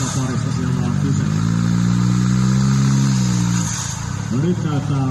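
A prototype-class off-road trial car at a showground trial event revs hard while climbing an obstacle. The engine roar is loud and close, holding a steady high pitch for several seconds before easing off and rising again, with a commentator talking over it.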